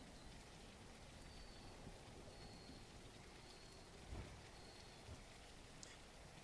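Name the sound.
rain in the video game The Isle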